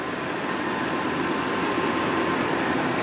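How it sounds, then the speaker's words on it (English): A Ford conversion van engine idles quietly and evenly, a low, smooth steady rumble with a faint hum, close by and unbroken, no voices. "Just want to give you guys an example of how quiet this motor is."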